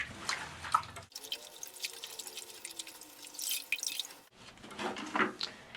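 Running water splashes and trickles as goldfish aquarium filter padding is rinsed under a tap, a continuous close wash with a brief quieter gap near the start.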